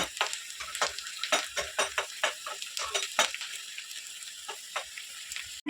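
Onion and garlic tempering sizzles loudly in a hot pan for ivy gourd and raw mango dal, a continuous crackling fry punctuated by quick scraping and clinking of a stirring spoon against the metal.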